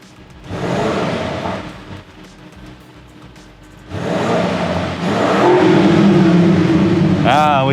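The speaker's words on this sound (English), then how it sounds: "Ah, we can rev higher now." A 2020 Audi RS6 C8 Avant, tuned to 740 horsepower and fitted with a full Akrapovic exhaust, revs loudly in two rising bursts, the second held longer and stronger, with a brief pause between.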